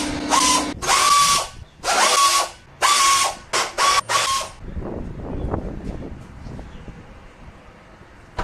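A pneumatic air impact wrench on an air hose, used during work on a Lexus IS300, fires in several loud, close bursts of rattling hammering, then falls silent to quiet shop clatter.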